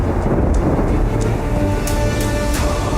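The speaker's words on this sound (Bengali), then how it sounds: "এই বৃষ্টি আসছে, সব ভেতরে চলো।" Thunder and rain arrive together, heard as a loud, continuous roar of heavy downpour with deep rumbling underneath and a few sharper bursts of noise throughout.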